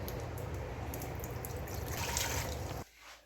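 Eight cups of 5% white vinegar pour into a pot for pickling peppers and onions, a steady close liquid stream that swells slightly before stopping abruptly near the end, without talk.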